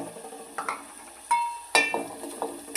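Onion and green garlic sautéing in a pan for a green chickpea curry, with a soft sizzle under sharp, close scrapes and clinks of a spoon stirring against the pan.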